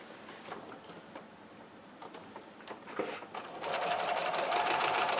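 Sewing machine running on a paper-pieced Monkey Wrench quilt block: quiet handling and clicks at first, then the fast rhythmic whir of stitching starts and continues steadily through the last second and a half.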